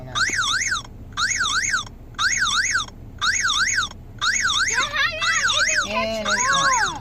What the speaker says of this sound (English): Hold on, my alarm going out.